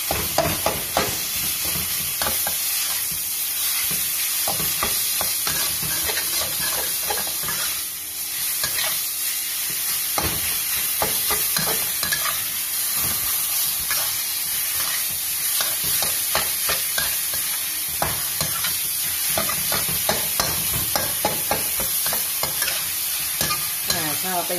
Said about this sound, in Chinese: 一定炒到拢变色啊